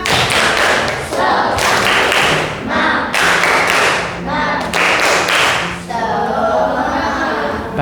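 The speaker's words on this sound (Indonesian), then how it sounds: "Tepuk semangat!" A primary-school class does a rhythmic spirit clap, loud close-up bursts of clapping and thumping in patterned groups, with children's voices mixed in.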